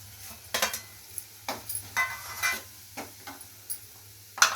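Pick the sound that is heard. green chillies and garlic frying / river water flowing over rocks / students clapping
green chillies and garlic frying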